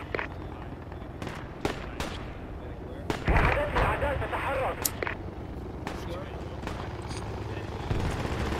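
A helicopter in the tactical shooter Project Reality drones steadily throughout, with scattered gunfire cracks and a louder burst of fire or explosion midway, all under a continuous noisy battlefield mix.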